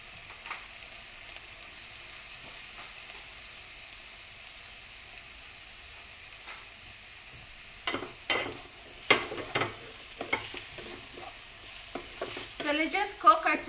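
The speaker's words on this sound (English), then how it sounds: "So let's just cook our tomato until it becomes soft." Tomatoes frying in a pan with translucent onions and spices for a pizza-style vegetable sandwich, a soft steady sizzle that turns into louder scraping stir strokes and clatter in the second half, close and with no voice.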